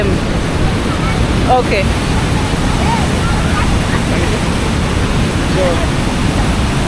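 Busowoko Falls near Jinja, Uganda, a dense, loud, continuous rush of falling water with wind buffeting the microphone, while people talk briefly over it.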